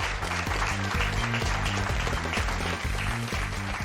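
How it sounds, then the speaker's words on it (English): A studio audience at a salon show applauds steadily, a full round of clapping heard close and loud, with a faint musical hum beneath. "Now a round of applause to the owner of Jungle Red, the salon that designed today's show, Suzanne."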